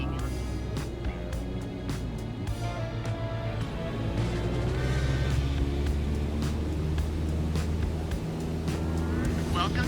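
A small airplane engine runs at full throttle during a climb in Microsoft Flight Simulator, a steady loud drone with a low hum throughout while someone talks over it.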